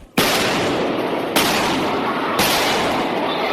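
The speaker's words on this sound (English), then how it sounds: "Gunfire interrupting a quiet church service." Three loud, sharp gunshot blasts ring out at roughly one-second intervals during a church service in Texas, each followed by a long reverberant wash.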